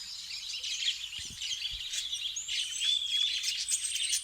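A parrot calls in Adina forest, Malda, with a string of shrill chirps and whistles at moderate distance, plus a couple of soft low thumps.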